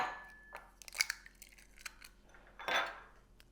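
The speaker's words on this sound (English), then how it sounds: "crack the eggs open and break them into the bowl one at a time" Eggs being cracked one at a time and broken into a bowl, heard as a few sharp close taps and shell clicks followed by a brief wet crunch near the end.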